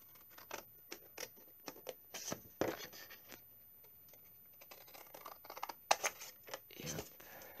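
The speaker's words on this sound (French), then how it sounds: "mon ciseau et je viens couper les petits carrés dans les angles" Scissors snip small squares out of the corners of a paper or card piece while making a tea-bag advent calendar, with a quick irregular series of close, crisp cuts and brief pauses.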